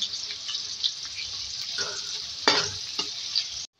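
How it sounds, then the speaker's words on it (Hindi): Three medium onions fry in hot oil, a loud continuous sizzle with occasional stirring clatter and a sharper scrape near the end before it cuts off. "ऑयल है, इसमें प्याज ऐड करेंगे 3 मीडियम साइज़ की। वो जो है फ्राई करेंगे।"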